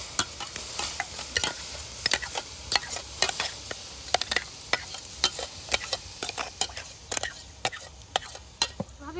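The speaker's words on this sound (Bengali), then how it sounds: "এবারে পেস্ট করা গাজরটা দিয়ে দেব গরম দুধের মধ্যে" Carrot paste is stirred into hot milk for a carrot sweet, with rapid, close spoon scrapes and taps against the pot in a steady rhythm over a soft bubbling sizzle, without talk.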